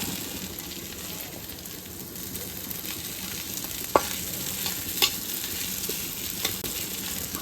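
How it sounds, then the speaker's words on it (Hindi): Potatoes frying in a pan on a home stove, a steady soft sizzle throughout with a few brief clinks of a utensil stirring. "आलू भून रहे हैं"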